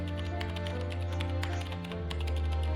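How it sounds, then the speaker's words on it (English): Rapid keyboard typing clatters in quick, irregular bursts as memoirs are entered in the Curse of Blackmoor Manor video game, running over a steady droning music bed. "I feel like I've been typing forever."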